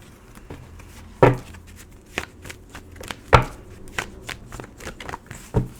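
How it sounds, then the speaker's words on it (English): A tarot deck is shuffled by hand nearby: soft papery riffling broken by a few sharp slaps and taps as the cards are squared. "Bear with me as I shuffle, kind of how I did before. It takes a minute to get the deck set."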